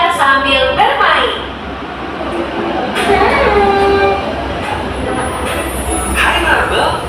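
A train in a classroom teaching setting, a loud rolling rail rumble with clattering and bright squeals, heard under a voice speaking.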